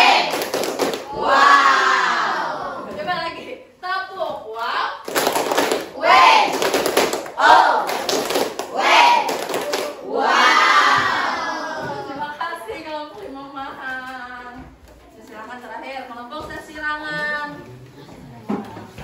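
An elementary classroom of sixth graders joins in the "tepuk wow" clapping chant, a quick burst of rhythmic claps and shouted voices. A teacher's voice leads before and after, and the children's chanting fills the room close by.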